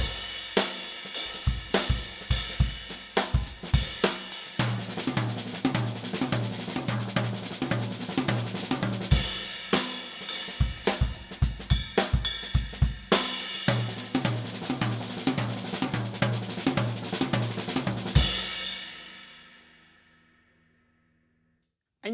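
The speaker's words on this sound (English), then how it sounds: "I'll play 2 bars of a groove and then 2 bars of that." A drum kit plays a groove, then moves into a six-stroke roll cycle with tom accents, alternating over several bars. A final crash rings out and fades over a few seconds, close and loud with no voices.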